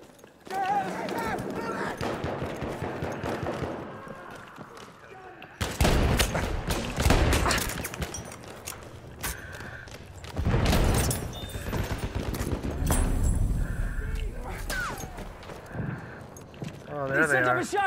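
Shotgun blasts in an online shooter game, several loud bursts of gunfire spread across the stretch, interleaved with continuous talking from a player over game sounds.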